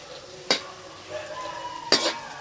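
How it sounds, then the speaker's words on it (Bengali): Onions fry in a large pan over a big outdoor stove for mutton curry, a soft steady sizzle broken by two sharp scrapes of a stirring spoon against the metal. "পেঁয়াজ ভাজা চলছে নাকি?"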